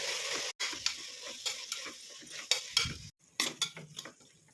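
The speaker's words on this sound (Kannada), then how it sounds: "ಈಗ ಕಟ್ ಮಾಡಿಟ್ಟಿರೋ ಪುದೀನ ಹಾಕ್ಕೊಂಡು ಫ್ರೈ ಮಾಡ್ಕೊಳ್ಳೋಣ." Chopped mint and tomato frying in a pan for pudina bath, with scraping and stirring clatters of a spoon against metal over a steady soft sizzle, close and alone, with brief pauses.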